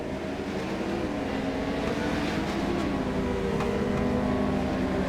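Legends Ford race cars at the Eldora dirt track, engines droning and revving together in a continuous loud roar that swells slightly toward the end, with no talking.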